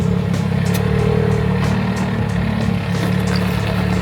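A fourth-generation Toyota Tacoma crawls forward off-road, its engine holding a loud, steady low rumble close by with no talking over it.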